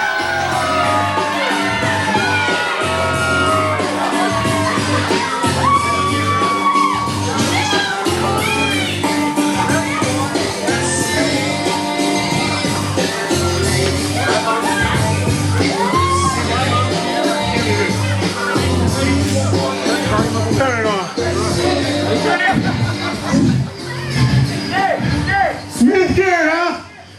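A wrestling crowd at a CWF Mid-Atlantic Worldwide event shouts, whoops and cheers continuously. The dense wall of voices stays loud throughout and swells near the end.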